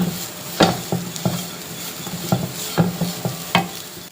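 Grated coconut stirred in a hot pan for banana flower thoran, a steady run of close scraping strokes over a constant sizzle, with irregular spatula knocks against the pan.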